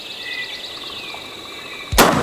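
A single loud shotgun blast cracks out near the end during a Tennessee turkey hunt, abrupt and close, after a stretch of quiet outdoor ambience with faint bird calls.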